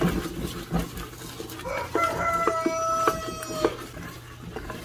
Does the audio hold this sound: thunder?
no